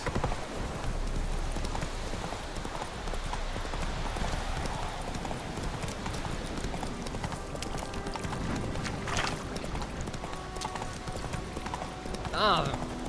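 Roach, a horse in The Witcher 3, gallops with a steady, continuous clip-clop of hooves under a busy game soundscape, with voices speaking over it and a brief whinny-like burst near the end.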